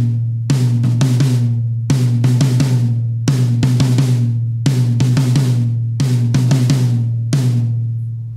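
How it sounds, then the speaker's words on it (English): A rack tom on a drum kit is struck in repeated short flurries of resonant, pitched hits. Each group rings and decays before the next begins, in a steady, close, loud pattern. "we have the tom-tom or high tom or rack tom."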